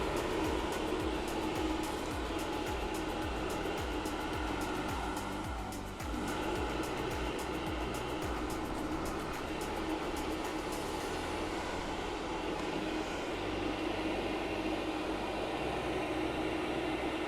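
An industrial radial duct fan for a 100 mm round duct runs with a steady broadband whoosh and low hum, a brief dip midway, then continues droning evenly.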